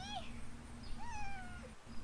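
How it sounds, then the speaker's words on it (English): A cat meows several times in short rising calls, heard close and indoors over a steady low hum, with a person speaking softly nearby. "what a sweet cat"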